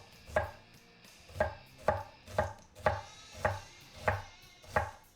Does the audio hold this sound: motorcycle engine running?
no